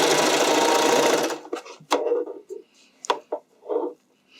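A serger overlock machine with a dull knife sews elastic onto a bikini top, a loud continuous whirring run that stops after about a second, followed by scattered clicks, thumps and handling noises.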